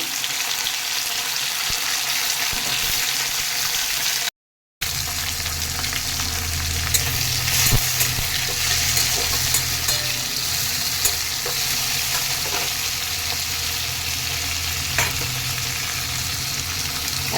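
Raisins and cashews sizzle in hot oil in a pan as tomato is added for a chutney, a steady crackling fry with occasional stirring clatter, close and continuous, briefly cut out once.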